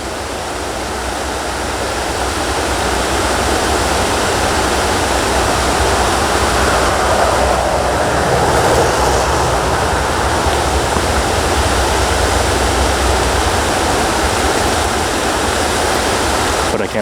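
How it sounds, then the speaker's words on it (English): A creek flows in a steady, close rush of water, a broad unbroken wash that holds level from start to finish with no voices. "Watching this water flow"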